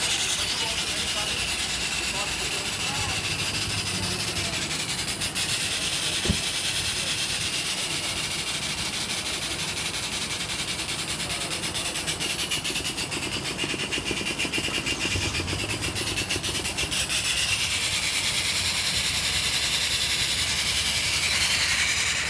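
Quart Master Plus fluid extraction pump running after being switched on, a steady hissing, rumbling mechanical drone that holds constant throughout with no pauses.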